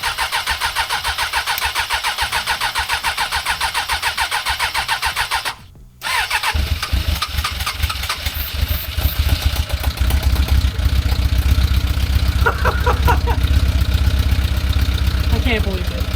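A quad fitted with a motorcycle engine, carburettors freshly filled and choke pulled, cranks, pauses briefly, then fires and settles into a loud, steady run close by, with short bits of talk over it.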